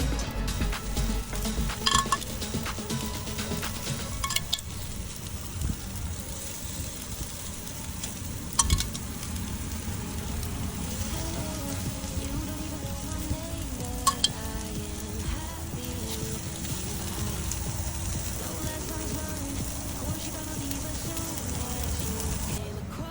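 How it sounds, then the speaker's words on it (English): Seasoned conch pieces sizzle on a small tray set over a grill, a steady close frying hiss with occasional clicks and scrapes of utensils against the tray. "Now it's time to hit the grill."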